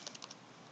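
Quick typing on a computer keyboard, a handful of light key clicks in a fast, uneven burst, close and alone.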